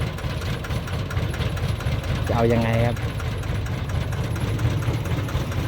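A tractor engine chugs loudly throughout at a constant idle, with someone speaking briefly over it midway.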